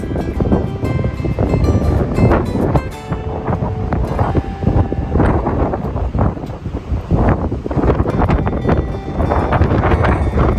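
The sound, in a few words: strong wind blowing across a farm yard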